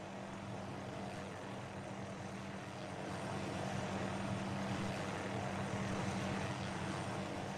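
An Arma 3 military helicopter flies in for a diver insertion over water, producing a steady, dense rotor and engine roar with a constant low hum, loud and unbroken throughout with no talk.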